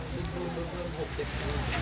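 Steady rain falling on an outdoor surface, a dense hiss spread evenly through the whole stretch, with faint voices mixed underneath.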